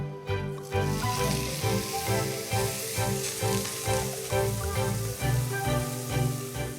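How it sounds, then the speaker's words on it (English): Steak hitting a searing hot pan, giving a loud, continuous crackling sizzle with steady spitting and popping close up, no talking over it. "So expect quite a bit of sizzling when I put it in."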